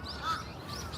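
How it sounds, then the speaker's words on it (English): Birds sing on an autumn morning in Odaiba, Tokyo, with a brief burst of chirps and a caw-like call over a steady outdoor background hum. "it's alive with so many birds this morning singing beautifully"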